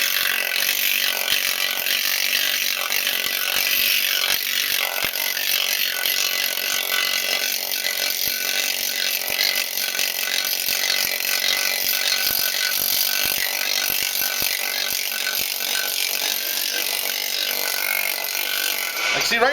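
A pneumatic planishing machine stretching sheet metal at very low air pressure keeps up a steady, dense hammering buzz throughout, with faint intermittent knocks beneath and no voices.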